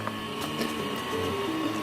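A 3D printer running a print with homemade black ABS filament, giving a steady whirring of stepper motors with shifting tonal whines as the head moves, close and continuous with no talking.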